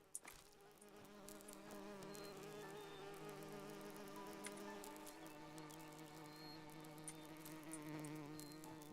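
Bees buzzing in the video game Enderal, a steady layered insect drone holding at an even level throughout, with a faint click near the start.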